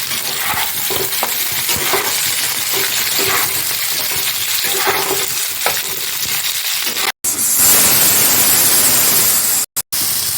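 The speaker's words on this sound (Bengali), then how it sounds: "মশলাগুলোকে আমি খুব ভালো করে ভেজে নেব।" Spices frying with chilli and tomato in a pan give a loud, continuous sizzle with stirring scrapes, rising into a dense, steady hiss in the second half.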